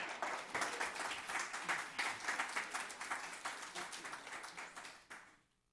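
A lecture audience gives flash talk presenters a sustained round of applause, steady and even for about five seconds before it tapers off quickly to silence.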